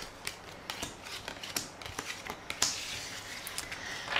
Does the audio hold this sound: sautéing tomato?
no